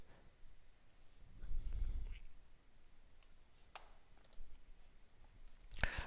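A few soft, scattered computer mouse clicks while working in QGIS, faint and isolated over a quiet background hum.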